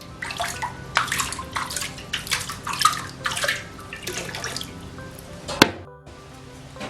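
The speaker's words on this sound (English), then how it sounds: "It's an electrical water pump." A small DIY electric water pump built from recycled materials, with a rotating wheel, throws water in a rhythmic series of splashing bursts, close and steady, ending with a sharp knock.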